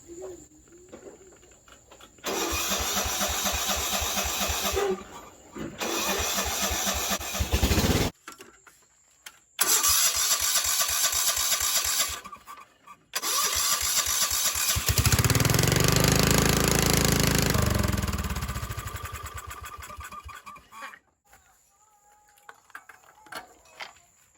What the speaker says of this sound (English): Turn ignition to start.